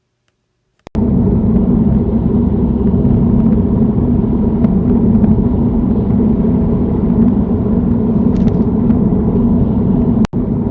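Car driving along a UK road during a mock driving test, a steady loud engine and road rumble heard from inside the cabin with no talk.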